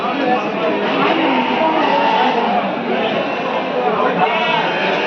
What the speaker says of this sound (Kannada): ನೋಡ್ರಿ ಇವ ಕುರಿಯಾಗ ಟಗರ್ ಇರ್ತಾರೆ